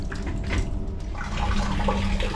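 Water draining from disconnected grooved black steel Schedule 40 chilled water pipes, a continuous close splashing and gurgling pour that shifts slightly in tone partway through, with no talking.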